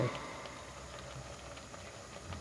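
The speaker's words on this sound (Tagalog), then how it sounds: "Kumukulo na siya." An insulin plant herbal decoction boils in a pot over an open flame, giving a soft, steady bubbling and light patter that holds evenly at low volume.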